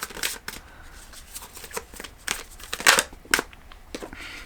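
A deck of animal oracle cards shuffled by hand, with a series of quick, crisp riffling bursts and flicks at an uneven rhythm, close and fairly loud, with no talking.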